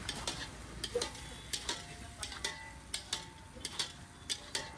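Mung bean pulao being stirred with special masala at a Gujarati street food stall, a spatula scraping and tapping a pan in regular strokes over a faint sizzle, fairly quiet and close, with no talking.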